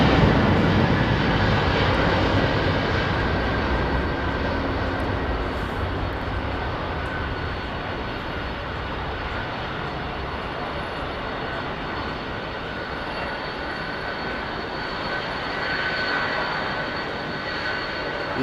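A Pratt & Whitney–powered high-bypass turbofan airliner roars steadily at Heathrow, a loud broadband engine rumble holding for the whole stretch and swelling slightly near the end, with no talk over it.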